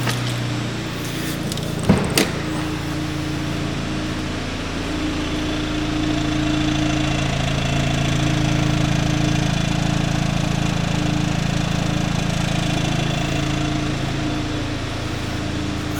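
An Audi S3 8V idles at the rear exhaust with a steady, low, even drone that swells slightly midway. A brief knock sounds near the start, and there is no talking.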